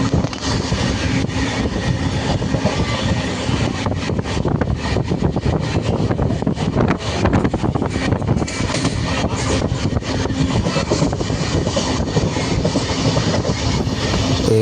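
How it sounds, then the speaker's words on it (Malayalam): A train runs along the tracks through a hill valley past Erode Junction. A loud, steady rumble carries rhythmic clickety-clack wheel beats throughout, close and without voices. "വലിയ മലയുടെ ഒരു താഴ്വാരത്തൂടെ ട്രെയിൻ ഇങ്ങനെ പോകുന്നത് നല്ല രസമുണ്ടായിരുന്നു കാണാനായിട്ട്"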